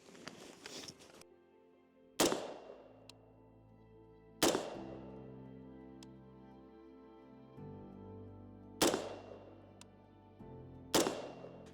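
Rifle shots fired offhand at a combat target on a range, four sharp loud reports spaced a couple of seconds apart, each with a ringing decay, with quiet pauses between.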